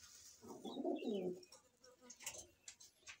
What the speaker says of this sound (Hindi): कमेंट में बताइएगा कि कैसे हैं ये मद्रासी कबूतर